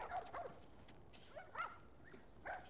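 Dogs in the video game The Last of Us give several faint, distant barks and yips in a short scattered series over a quiet ambient background.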